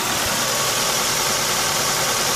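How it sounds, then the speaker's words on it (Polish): A 2002 Ford Focus 1.6 engine, unwashed and running on LPG, idles up close with an even, steady mechanical hum and light ticking clatter, without any voices. "Silnik już chyba przełączył się na gaz. Pracuje teraz na gazie."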